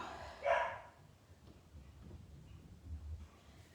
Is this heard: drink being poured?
no